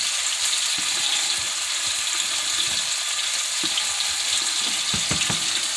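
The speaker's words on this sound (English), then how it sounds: "so I can fry them." Flour-coated chicken meatballs fry in a small pan with a steady, close, high sizzle. Faint scattered pops and stirring taps come through it, and no one speaks.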